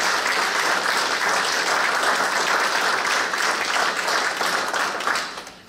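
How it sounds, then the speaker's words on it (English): At the official launch of Galway City Autism Friendly, an audience breaks into a big, dense round of applause that holds steady, then fades out at the end. "I think you deserve a real big round of applause for the great work."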